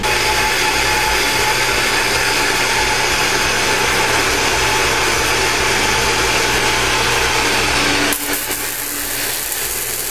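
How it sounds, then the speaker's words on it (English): MIG-style welding of vertical steel guides onto a truck cargo rack: a loud, steady crackling buzz runs continuously for about eight seconds, then cuts off abruptly, leaving quieter shop hum. "I am now welding my vertical guides to keep my plywood or whatever my load is from falling off to the sides"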